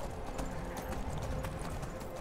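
Horse hooves clip-clop in a steady trotting rhythm in the video game Skyrim, close and continuous over a rushing background bed.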